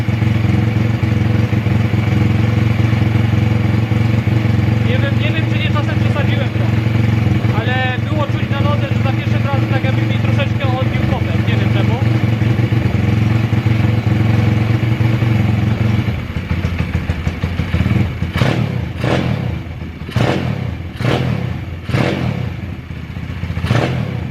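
A small pit bike engine idles roughly and loudly for a long stretch, then sputters into uneven pops and revs near the end.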